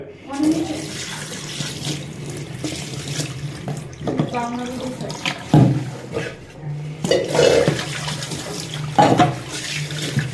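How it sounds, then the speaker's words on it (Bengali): A tap runs into a sink while small puti fish are washed by hand, with the water's steady rush broken by splashes, sloshing and clattering handling nearby. "আমি হচ্ছে মাছটা সুন্দর করে ধুয়ে নেওয়ার জন্য বিভিন্নভাবে চেষ্টা করতে আছি"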